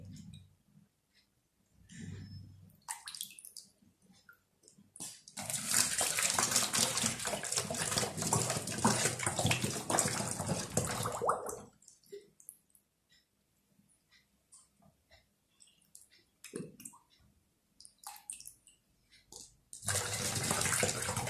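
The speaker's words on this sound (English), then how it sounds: "take your last vessel, which is the small bottle, and start filling the 1 liter water bottle" Water pours from a small bottle into a 1 liter bottle in a long, loud gushing stretch, then quieter trickles and drips, then gushing again at the end.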